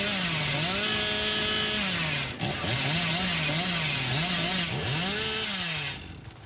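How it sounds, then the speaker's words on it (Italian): Chainsaw of the Hillbilly killer in the video game Dead by Daylight, a steady buzzing motor drone with pitch swells as it revs, running loud and continuous throughout with a brief dip midway. "quando imparate a usare bene la motosega"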